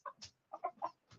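A rooster in a metal shop clucks and squawks in four or five short, separate calls, moderately close, with nothing else around them.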